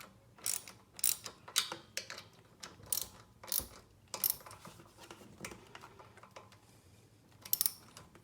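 A wrench ratchets in short, uneven bursts while bolts on a Honda CRF70F carburetor are tightened. The clicks sound close and fairly quiet, and no one speaks.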